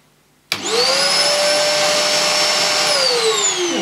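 An Electrolux The Professional upright vacuum cleaner switches on with a sudden jolt, then holds a loud, steady whirring whine that dips slightly in pitch near the end.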